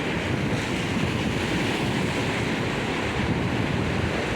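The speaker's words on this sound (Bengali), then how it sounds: "ঢেউ প্রচণ্ড বেশি" Strong waves surge and crash continuously, a dense roaring wash of surf mixed with wind buffeting the microphone.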